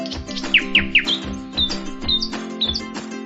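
A small bird chirps from its nest area, a string of bright, quick rising tweets repeated about every half second, clear and close over a steady low background hum.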